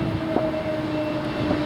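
A BNSF freight train led by a Warbonnet locomotive passing through Duplainville on the CP line, a steady rumble of rolling cars with faint screeching tones, brief and moderately close.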